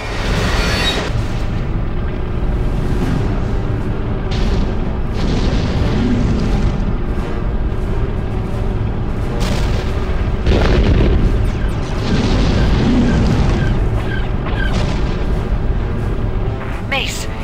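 Missile blasts from Hellfire droids in a Blade II video game, a string of deep booming explosions over rumbling game action, with a character speaking over the din.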